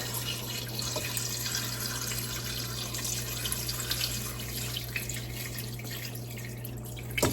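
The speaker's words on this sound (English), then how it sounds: "So now we are going to, again, cover this with water." Water runs steadily into a pot of lemons for marmalade, a continuous splashing stream with a low hum underneath throughout.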